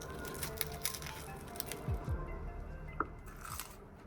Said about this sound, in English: The bottom and the crust look great. Listen to this crunch.